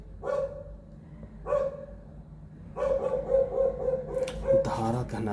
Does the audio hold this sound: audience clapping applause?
no